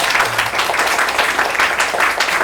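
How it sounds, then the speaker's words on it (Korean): An audience at a book forum meeting with an author in Daejeon breaks into steady, dense applause, many hands clapping together at fairly close range without a pause. "이 부분은 박수를 한번 크게 치셔야 될 것"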